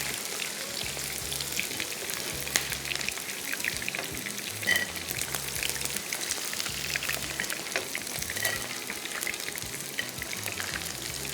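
Food frying in a pan on a stove during fish soup and mandi cooking, a soft, steady sizzle with scattered crackles and pops throughout.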